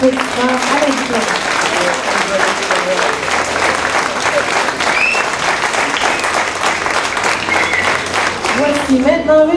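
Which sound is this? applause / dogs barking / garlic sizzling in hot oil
applause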